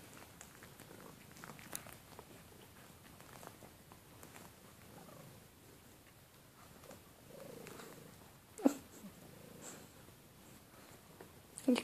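A cat purring softly up close, a low steady rumble that runs through the whole stretch, with a few faint rustles and a brief sharp click near the end.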